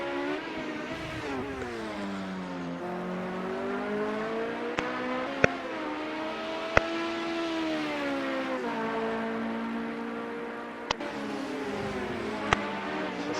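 Race car engines in Project Cars 2 drone steadily near the Sakitto GP circuit during an LMP900 race, pitch rising and falling through gear changes, with a few sharp clicks scattered across the stretch.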